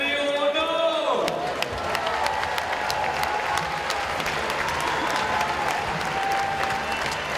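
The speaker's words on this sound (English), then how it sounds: "Applaudissements s'il vous plaît pour le japonais Mineo Ono." A crowd at the IFSC Climbing World Championships in Paris applauds a Japanese paraclimber, with a brief announcer voice at the start giving way to sustained clapping and scattered cheers.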